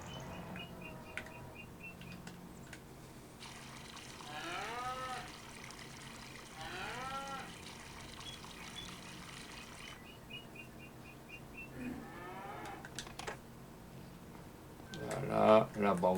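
Cows in a farming video game on a Bermann map let out a few drawn-out moos in a row, with faint chirping birds and soft game ambience behind them and a person talking at times.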